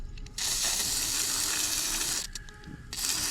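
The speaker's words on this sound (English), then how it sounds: "I'm just going to go ahead and shoot that all down with some kroil, flush it out the bottom." Kroil penetrating oil is sprayed into the gear case of an old 1970s Hatz diesel compactor roller. It makes a close, continuous hissing spray, broken by one short pause and then resumed.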